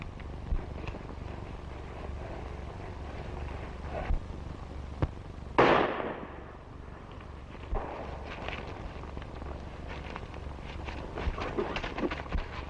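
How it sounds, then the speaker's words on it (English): Gunshot in an old black-and-white western film: one sharp crack stands out midway above a faint, hissy soundtrack with low hum, followed by a brief decaying tail; the surrounding stretches are quiet. "I tell you, I heard a shot."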